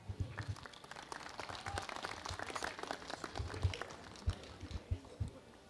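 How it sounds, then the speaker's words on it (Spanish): Audience at a Peruvian university ceremony applauds the rector with steady, faint clapping that swells and ebbs for several seconds, with a few sharper claps standing out near the end. "a quien recibimos con fuertes palmas"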